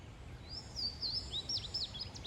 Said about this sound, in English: So there's a Louisiana water thrush singing